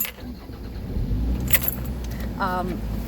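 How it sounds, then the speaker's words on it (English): Car keys jangle inside a car as the engine is started, with a low engine rumble and a brief electronic chime, under someone's speech. "I'm gonna turn on my car."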